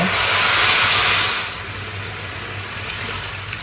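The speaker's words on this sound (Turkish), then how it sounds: "Şimdi suyunu koyacağım." Hot water poured into a pot of frying noodles and vegetables: a loud, steady rush of hissing water and steam for about a second and a half, then dropping to a quieter, continuous bubbling sizzle.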